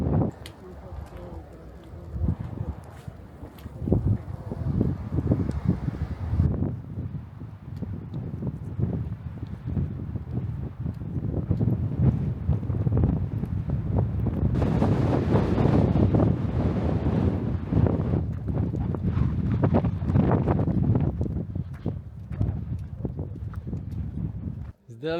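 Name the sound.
gusts of bora wind on a hiking ridge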